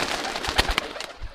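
Giribaz flying pigeons from a Pakistani pigeon collection, heard as a brief burst of wing flaps and soft cooing, close and fairly loud over a short stretch.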